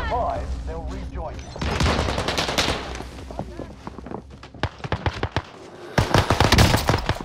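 Gunfire in the video game Call of Duty Warzone, with bursts of automatic shots and sharp single cracks at mid distance, mixed with people talking over the action.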